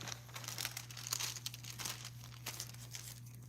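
A bag is folded down the middle by hand, giving close, quiet crinkling and crackling in irregular bursts over a low steady hum.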